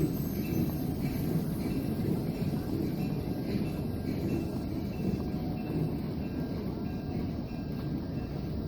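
Miniature 7.5 inch gauge ride-on train rolling along its tracks, a steady low rumble and clatter throughout with wind buffeting the microphone, no talking.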